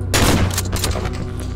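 Shotgun blast in the Cry of Fear video game, a single sharp loud report with a short booming tail that fades over about a second.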